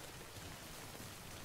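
Rain in the video game Death Stranding, a faint, even wash of steady falling rain with no other sounds, very brief.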